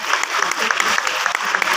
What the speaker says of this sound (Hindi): एक बार तो अपने लिए जोरदार तालियां बजा लीजिए